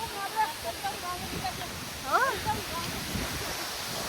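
Syange waterfall in Lamjung rushes with a steady, broad wash of falling water that runs through the whole stretch, with people talking and calling over it.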